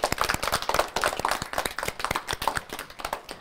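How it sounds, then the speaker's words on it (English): A small audience at a children's book reading by a school superintendent claps steadily, the individual claps close and distinct, forming a brief round of applause with no talking. "Let's give Dr. Mae Besom a big round of applause."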